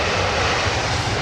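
Airliner engines on approach to Heathrow runway 27R, a loud, steady broadband roar close by, with no voices.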